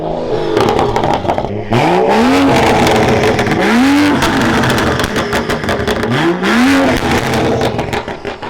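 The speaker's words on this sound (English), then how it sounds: "Let's have a rev contest real quick." V8 engine revved hard in a rev contest, three sharp blips that climb steeply in pitch and fall back, separated by a rough, crackling idle, loud and close with no talking.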